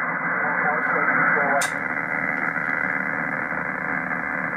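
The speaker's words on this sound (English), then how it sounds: "Can't hear him, just hear static." Steady hiss of static from a ham radio receiver tuned for a weak station, loud and continuous with a brief sharper crackle partway through and no voice coming through.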